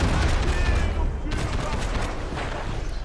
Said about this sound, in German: Wer schießt denn da auf mich?